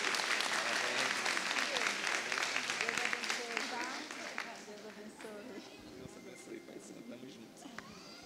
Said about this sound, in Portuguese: Dê um aplauso ao Senhor pela vida do Theo.